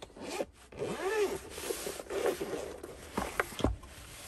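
A zipper is pulled open around the carrying case of a Topdon JS3000 jump starter, giving several close, rasping zip strokes with brief pauses and light handling rustle between them.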